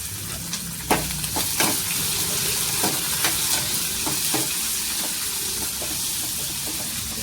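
Curd tempering for curd sambar sizzles steadily in a pan, a continuous frying hiss broken by occasional sharper crackles and stirring clinks, close and fairly loud with no talking.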